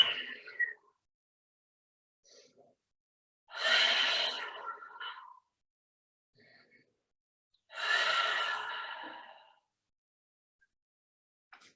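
Two deep, heavy exhaled sighs during a yoga practice, each a long breathy rush of air spaced a few seconds apart, close and quiet with faint breaths in between.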